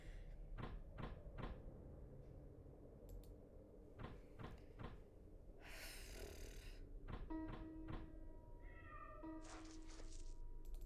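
Cat meowing in a creepy video game, a few distinct meows near the end following several sharp knocks and cupboard-like bangs and a burst of noise, all fairly quiet against a low rumbling background.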